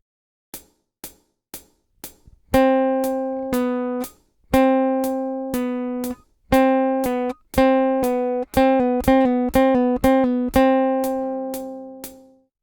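A guitar finger exercise from a song lesson, played as a string of clear plucked notes with pull-offs to open strings, short taps giving way to ringing sustained notes, close and solo.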